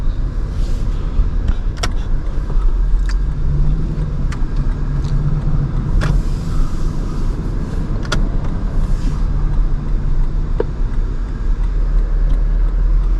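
Lexus LC 500 V8 engine drives in Sport Plus mode with a steady, loud, dense rumble heard from inside the cabin, a few faint clicks and ticks rising over the continuous drone.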